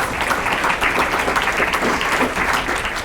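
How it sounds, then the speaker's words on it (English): Warm audience applause for Heather at a Plaistow Community YMCA education celebration, a dense continuous clapping roar, loud and even for the whole stretch. "So let's give Heather a big round of applause."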